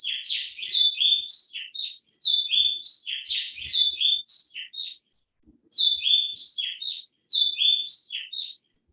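Two Central or South American birds sing a recorded duet, bright interlocking whistled phrases trading back and forth in tight coordination, in several sustained bursts separated by short pauses, with no talking.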